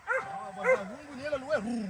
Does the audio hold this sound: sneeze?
no